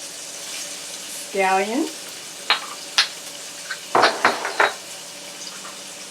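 Red peppers, broccoli and scallions stir-frying in a pan give a steady low sizzle with a few sharp utensil clicks and scrapes, while a voice talks briefly over the cooking.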